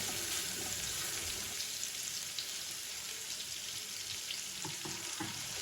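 Ground spice paste frying in coconut oil in a pan, a fairly faint steady sizzle with watery bubbling and a few soft stirring knocks, heard alone without talk.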